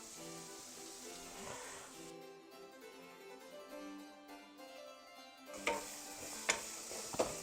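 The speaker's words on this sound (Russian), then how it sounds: "Теперь добавлю лук. Пускай начинает жариться." Steady sizzling of onions frying in a hot pan, with a few sharp clinks of a utensil stirring toward the end.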